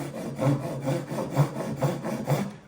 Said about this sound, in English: I'm going to use the more refined Japanese saw, where I'll be able to cut my shoulders.